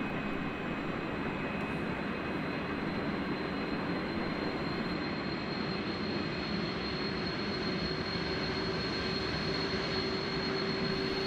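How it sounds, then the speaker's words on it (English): Simulated Boeing 747 jet engines start up in an iniBuilds flight simulator sound pack, heard as a continuous rumbling roar with steady whining tones, alone and at even loudness. "Now on to engine startup"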